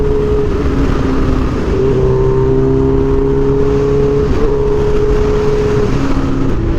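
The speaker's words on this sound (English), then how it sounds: "The throttle is like so choppy just from the bumps on the road." A Kawasaki Ninja H2 motorcycle rides along a bumpy road with choppy throttle, its engine a loud, steady drone that wavers in pitch as the throttle surges and dips, with constant wind rush and no talking.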